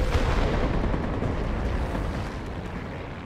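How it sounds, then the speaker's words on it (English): Heavy bomb explosions in the World of Warplanes combat flight game, a dense continuous rumbling barrage of deep blasts that stays loud throughout and fades slightly toward the end. "Those are big bombs."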